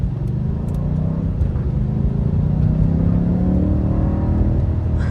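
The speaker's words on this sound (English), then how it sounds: "All right, let's just give it a little bit of gas here." A BMW M5 Competition F90 with a twin-turbo engine accelerating under light throttle, a deep, steady engine rumble rising gradually in pitch from inside the car, loud and continuous with no talking.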